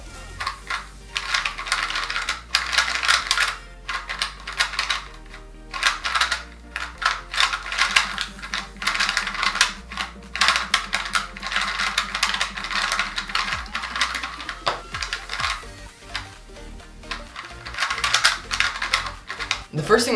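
A YueXiao Pro 2x2 speed cube being turned by hand, a fast run of low, clicky plastic clacks in irregular bursts, close and fairly loud, with occasional talking mixed in.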